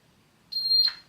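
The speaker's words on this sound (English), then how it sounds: "Heard a beep, hit connect." A single short, high-pitched electronic beep sounds once against near silence.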